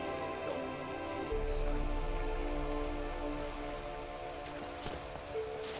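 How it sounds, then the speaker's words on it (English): Steady rain falls in The Witcher 3: Wild Hunt, a dense even patter on surfaces that continues throughout alongside soft horse hooves and low game music. "Looks like rain."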